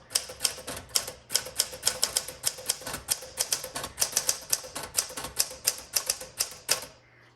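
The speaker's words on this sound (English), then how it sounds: "So every time I hear that bell, I hit the return handle." Rapid, steady keystrokes from a 1961 Smith Corona Sterling typewriter clatter close by, with a bell and carriage return sweep toward the end before the sound stops.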